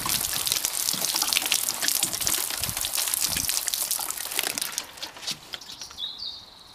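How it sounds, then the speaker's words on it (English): Water is poured over freshly transplanted lettuce seedlings: a steady splashing gush with crackling droplets for about five seconds, then it tapers off as a bird chirps nearby. "let's get some water on them."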